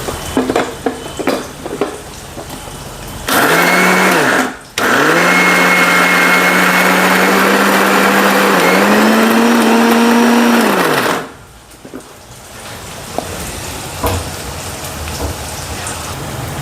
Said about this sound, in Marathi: हे आपण डाळ मिक्सरला काढून घेतो